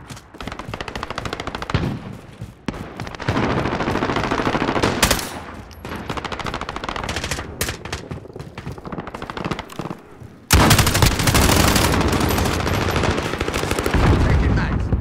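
Bursts of automatic gunfire and single shots fill a Call of Duty Modern Warfare match, loud and rapid with brief pauses, then a heavier sustained barrage near the end.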